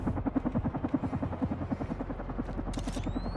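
A helicopter in the video game Carrion churns out a loud, rapid rhythmic rotor thumping that runs steadily throughout, with a rising whine near the end.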